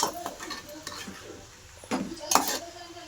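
Vegetable stir-frying in oil in a pan, with a soft sizzle under intermittent spatula scrapes and clinks against the pan, a couple of sharper knocks near the end.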